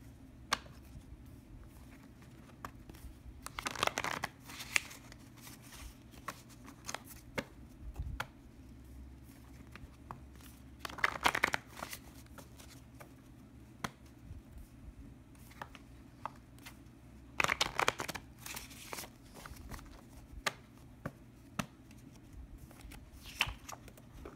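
Loteria cards being shuffled by hand in three distinct bursts of soft riffling and snapping, separated by quiet pauses with faint handling taps, close and low in level.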